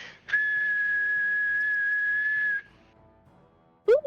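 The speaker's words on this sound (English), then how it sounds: "Damn, you can actually whistle." A person whistles a single long, steady, fairly clear note for about two seconds, followed by quiet and a brief rising sound at the end.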